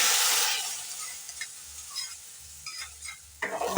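Kozhuva (anchovy) gravy curry stirred in a pan: an initial burst of hissing sizzle settles into quieter bubbling with light spoon scrapes and taps, ending in a louder stir.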